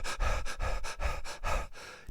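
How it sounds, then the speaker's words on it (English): A person pants in rapid, rhythmic cycles of forced breathing to bring on hyperventilation, about eight close, loud breath pulses in steady succession with no talking. "just this panting breathing, basically, so that you begin to hyperventilate"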